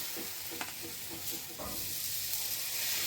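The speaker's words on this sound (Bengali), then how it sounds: "এবার আমি যে ব্যাটারটা তৈরি করে রেখেছিলাম সেই ব্যাটারটা এখানে দিয়ে দিচ্ছি" Batter poured onto an oiled iron tawa, sizzling with a soft steady hiss and a few light crackles, close and fairly quiet.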